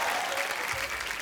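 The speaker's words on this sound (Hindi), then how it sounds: "सो आप सबकी जोरदार तालियों के बीच फ्लाइंग जट" Studio audience applause from a comedy talk show, a dense burst of clapping and crowd noise throughout the short moment.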